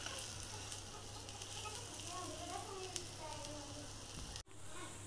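Lentil kebab tikki made from whole masoor dal fries in oil with a steady, dense sizzle and crackle that runs throughout and cuts out sharply near the end.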